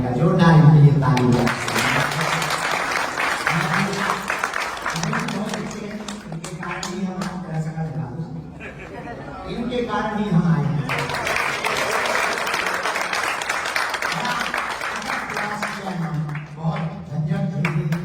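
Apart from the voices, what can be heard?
audience applause at a religious gathering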